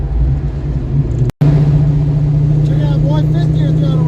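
An old car with a freshly fixed carburetor choke accelerates in fifth gear, its engine droning steadily and loudly with a brief dropout, pulling smoothly under the road rumble while a person talks.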